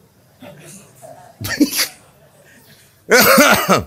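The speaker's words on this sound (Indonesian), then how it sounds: "Aduh, jadi batuk." A few harsh, bursty coughs stand out between quiet stretches of speech, the last one loud and close.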